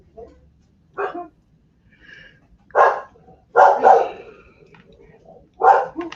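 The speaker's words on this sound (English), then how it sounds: "Okay, the dogs. Let me mute." Dogs barking indoors, several short separate barks and yips spaced across a few seconds, fairly close and loud, with quiet room background between them.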